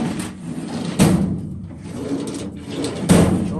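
A drawer in a flat file cabinet set on casters slides open or shut, with broadband thumps near 1 s and 3 s over a low rumbling, scraping background, close and moderately loud.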